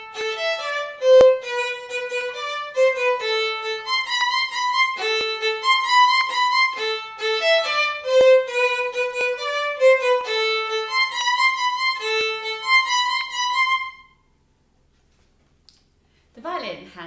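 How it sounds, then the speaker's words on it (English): A solo violin plays a familiar tune, a steady run of clear bowed notes for about fourteen seconds before it stops, followed by a brief faint rustle. "I play the violin and it sounds a bit like this."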